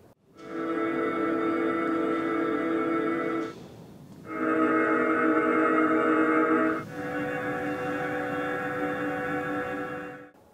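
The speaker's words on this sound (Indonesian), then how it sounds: "itulah virtual sound-nya yang dikeluarkan oleh mobil ini" A steady synthetic humming tone from a 2022 MINI Electric's artificial driving warning sound, emitted when moving forward or reversing, sustained in long stretches with brief breaks, fairly loud and close, no voices.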